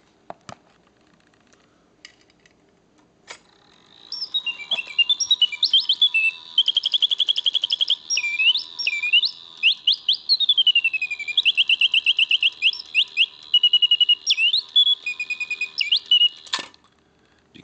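Antique Flajoulot singing bird box automaton, wound and playing: a long, bright mechanical birdsong of rapid chirps, trills and sliding warbles, close and clear, starting after a few clicks and ending with a mechanical click.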